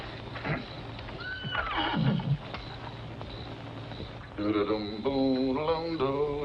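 A horse whinnies in a drawn-out, wavering neigh, close and fairly loud, over a low background hum.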